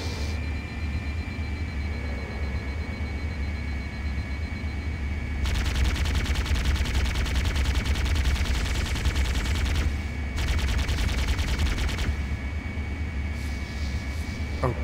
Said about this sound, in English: There's three pew-pews that are now shooting me